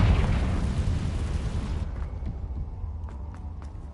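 A loud Confringo fire spell explosion in Hogwarts Legacy booms close, its rumbling blast fading over a few seconds into a low roar with faint crackles and small pops.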